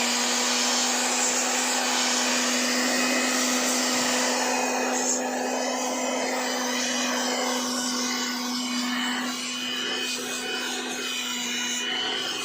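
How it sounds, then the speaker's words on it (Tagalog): An air blower hisses steadily while cleaning the engine bay of a 2022 Isuzu Mu-X with an RZ4E engine during a service check, giving a continuous close rushing roar with a steady whine and slight shifts as the nozzle moves. "i-blower natin dito na side"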